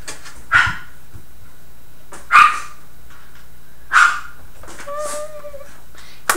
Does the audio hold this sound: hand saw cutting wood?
no